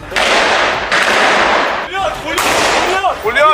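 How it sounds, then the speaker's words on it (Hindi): Gunfire from Israeli soldiers during the operation at Al-Shifa hospital, loud dense bursts of shots that crackle and echo in two long volleys separated by a brief pause. "अल शिफा अस्पताल में चल रहे इजराइल के ऑपरेशन के वीडियो में वो हमास के लड़ाकों पर फायरिंग करते नजर भी आए"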